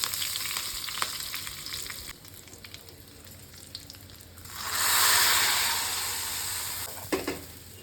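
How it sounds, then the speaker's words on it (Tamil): Cumin and curry leaves hit hot oil in a small tempering ladle with a sudden loud sizzling hiss that swells and then settles, after quieter frying crackle and a few clinks, close up with no talk. "ஜீரகம் இந்த கரண்டியில் இவ்வளவு போடுறேன். 5 பெட்டி கரண்டியில். கருவேப்பிலை."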